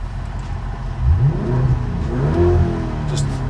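Lamborghini Urus running with no rear muffler fitted, its engine revving in a couple of rising and falling blips over a steady low idle rumble, close and fairly loud.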